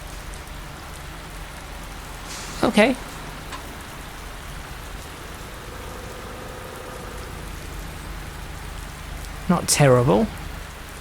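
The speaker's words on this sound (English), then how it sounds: "Should take another quick look outside at the rain and the effects" Steady, even hiss of rain falling on surfaces in Euro Truck Simulator 2, continuous throughout, with someone speaking briefly twice over it.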